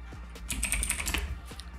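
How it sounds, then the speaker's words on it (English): Rapid typing of a terminal command on a computer keyboard running Debian 11, a dense close burst of clattering keystrokes with one louder key near the end. "you type sudo apt install git and your password"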